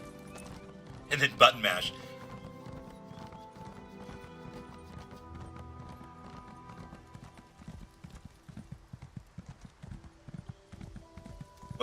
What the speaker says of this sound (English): Time to bring out the horse.